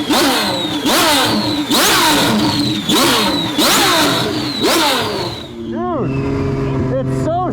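A DDE twin-turbo Ferrari V12 screams through a rapid series of loud, close revs climbing and dropping in pitch, then settles into quicker warbling blips and a lower idle.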